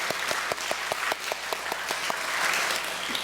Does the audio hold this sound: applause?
yes